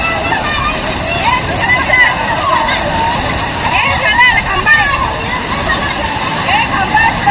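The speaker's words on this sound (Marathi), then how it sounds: "पाऊस जोरात आला आहे" Heavy rain pours down during flooding in Nalasopara, with streets under water, making a dense, constant wash of falling water and splashing while people talk over it.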